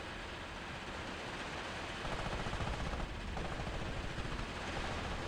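Grenades and small-arms fire in the wartime strategy game Steel Division 2, a distant, muffled crackle of rapid pops and bursts that thickens partway through into a denser barrage.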